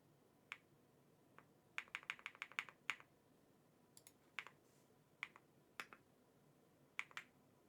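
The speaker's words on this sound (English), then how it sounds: "You can still hear the key clicking." Computer keyboard keys click in quick bursts of sharp taps, some rapid runs and some single presses, close and fairly quiet with no talking.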